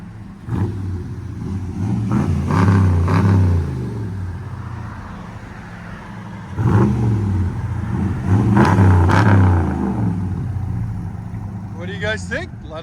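A deep Ram 1500 5.7L Hemi V8 with true dual exhaust, 3-inch mid-pipes and 6-inch tips, revs up and settles twice in long swells, loud and close, ending with a short crackle.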